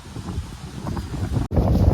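Strong outdoor wind buffets the microphone with a loud, continuous low rumble that briefly cuts out and then returns just as strong.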